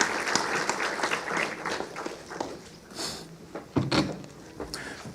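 A conference audience at a national IP awards event claps after a bouquet presentation. The applause is thin and scattered, fairly quiet, with uneven claps and a few louder bursts mixed with shuffling movement.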